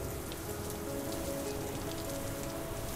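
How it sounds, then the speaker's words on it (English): Steady video game rain pours on surfaces in a dense, unbroken hiss, with a faint music tone humming underneath throughout. "the rain can't be actually turned down"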